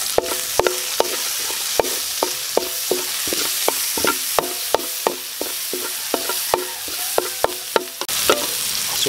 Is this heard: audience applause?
no